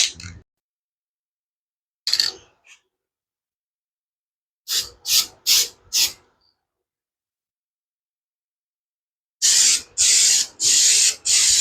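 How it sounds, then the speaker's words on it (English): Bursts of AutoZone trim black spray paint hiss from an aerosol can onto car parts: a short spray, a pause, three quick spurts, then a run of four longer close, loud sprays. "let's get to work spraying it"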